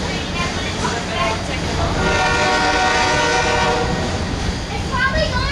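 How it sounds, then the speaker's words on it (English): A Union Pacific train passes close by with a loud, sustained multi-note horn blaring over heavy rumble and rail noise throughout. "go see that train and when it comes back"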